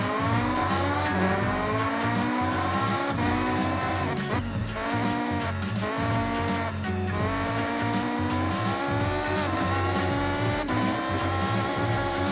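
A time attack car in Forza Horizon 6 launches hard, its engine screaming up through the rev range with rapid gear changes and tire squeal, loud and close throughout.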